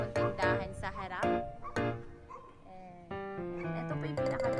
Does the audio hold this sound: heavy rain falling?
no